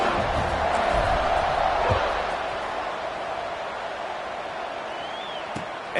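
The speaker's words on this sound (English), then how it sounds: "They're set to kick it off, and this crowd now ready to get behind them." Stadium crowd at a college football kickoff, Miami at Colorado, a broad loud roar of cheering that swells early and then settles into a steady murmur.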